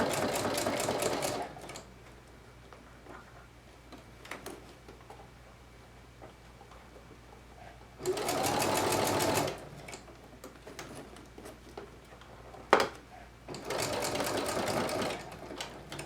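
A sewing machine stitches a plush ponytail piece in three separate bursts of rapid, even needle rhythm, close and clear, with quiet pauses and small handling clicks between runs.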